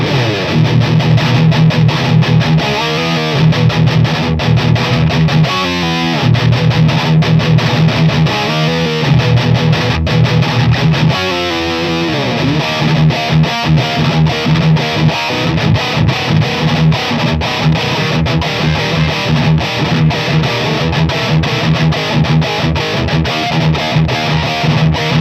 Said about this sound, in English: And finally, the John Petrucci pick, which maybe will make me play better.